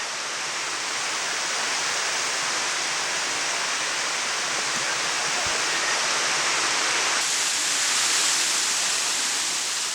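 Water pours steadily down a waterfall stream on the Gyeongho River in Sancheong, with cool water falling between huge rock cliffs amid fresh green forest. It makes a loud, constant, broadband rush that stays unbroken throughout and has no voices over it.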